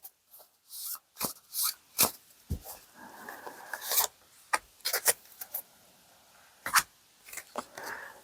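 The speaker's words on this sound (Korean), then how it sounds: "이번에 새롭게 업그레이드 돼서 출시된 부자의 그림 타로 카드를 조언점으로 뽑아보도록 할게요" Tarot cards being handled and drawn, a series of short crisp rasps, slides and flicks of card stock in irregular bursts, close up with quiet gaps between and no talk.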